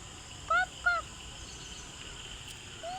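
Peacocks perched in trees give loud, sharp two-tone calls outdoors, two quick cries in succession followed by a third after a pause, over steady background hum.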